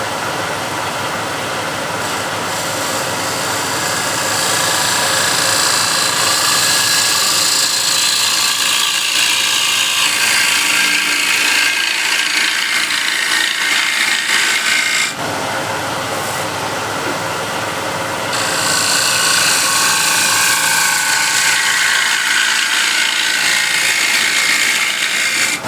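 A bow gouge shapes a wooden hexagon plate spinning on a lathe, giving a loud, continuous scraping hiss of cutting with a steady motor hum, briefly easing mid-pass before resuming.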